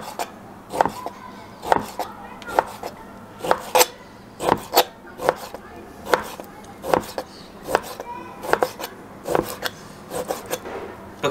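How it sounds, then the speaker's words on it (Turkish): A knife thinly slices beef on a board in a steady series of short, sharp strokes, each ending in a faint tap, close by with no talking. "Şimdi buradan bunu yaprak yaprak ince ince doğrayacağım."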